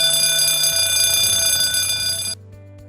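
A loud, continuous ringing fire alarm bell with a bright metallic tone sounds for over two seconds, then stops suddenly, leaving a faint hum.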